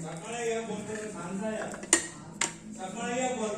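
A methi thepla flatbread is flipped on a hot pan, with two sharp metallic clinks of the utensil against the pan close by, over a low kitchen background and faint voice.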